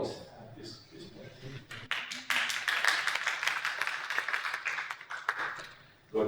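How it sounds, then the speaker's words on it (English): Short burst of audience applause at a talk on AI and DevOps in product creation, a broad wash of many hands clapping that swells, holds for several seconds, then tapers off, with some talk underneath at the start. "Usually I ask for a short applause at this point."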